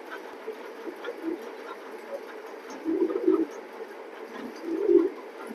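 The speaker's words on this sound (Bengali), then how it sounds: "দেখেন মাশাআল্লাহ সাইজটা কি, অনেক সুন্দর কবুতর" A pigeon coos nearby, soft low throaty calls that swell in two clearer bursts toward the middle and end over a quiet background hiss.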